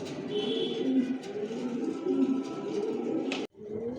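Adult racer pigeons with leg tags coo together nearby in a steady, overlapping low murmur with a few brief higher chirps, interrupted by a short thump near the end.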